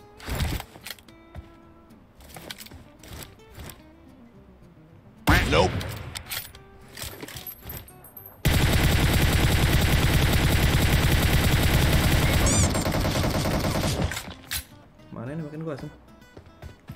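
Gunfire in the mobile battle royale PUBG Mobile, with scattered single shots early, then a long sustained automatic burst lasting several seconds. Game sounds and speech run throughout.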